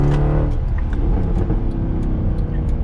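Mercedes C63 AMG engine blipping on a downshift into second at about 2,900 RPM during a winter drift session, a loud continuous close-up rumble and rev with no voices.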